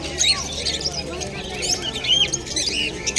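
Small crimson-bellied conure chicks chirp and squawk in quick, overlapping bursts close by at a bird market in Dakshineswar, Kolkata, with other birds chattering in the background.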